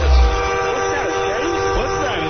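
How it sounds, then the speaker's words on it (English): Train passing on a radio broadcast, with a rumbling low start and wavering horn-like tones drifting over a steady background for a couple of seconds, with no talk. "What's that, a train?"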